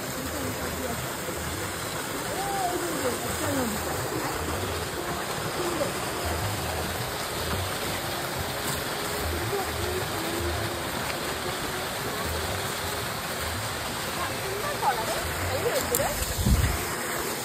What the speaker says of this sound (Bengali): এখান থেকে ঝর্ণা টাইপ হয়ে এখানটাতে পড়ছে